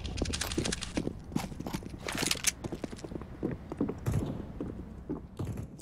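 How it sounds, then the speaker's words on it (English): Rapid, uneven footsteps in Counter-Strike: Global Offensive clatter close and loud during a round, a dense run of hard steps with no talk. "I hear a lot of footsteps."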